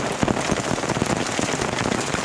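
Pea-size hail pelting a Jeep during a storm, a dense steady drumming patter of small ice pellets on the vehicle, close and continuous with no voices.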